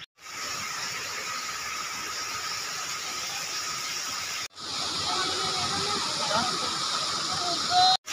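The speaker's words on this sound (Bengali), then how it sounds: "এই সেই কাঙ্ক্ষিত গাছ কাটা ছড়া ঝর্ণা" Steady roaring rush of the Gachkata Chhara waterfall fills the scene, broad and continuous, with a brief cut midway and faint voices murmuring beneath the water noise.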